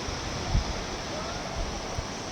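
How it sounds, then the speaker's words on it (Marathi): Rainwater runs and falls beside a road in Pune during heavy rain. A steady, broad rushing wash continues throughout, with a few soft low thumps. "आणि बघा इथे पण पाणी पडत आहे रस्त्यापाशी"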